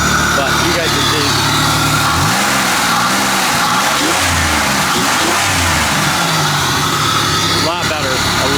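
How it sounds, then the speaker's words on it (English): The engine of a Regal demolition derby car revs and idles up and down with a slight misfire, loud and close, while someone talks over it. "Still a little bit of misfire, like I said, but not terrible."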